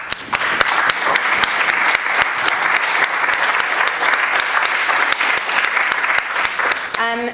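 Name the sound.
audience round of applause for debate speakers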